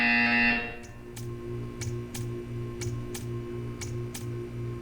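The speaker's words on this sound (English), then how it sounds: "You will hear a buzzer." An electronic buzzer sounding in the video game Portal 2, a loud tonal blare that cuts off after about a second, followed by a steady hum and a regular series of sharp ticking pulses.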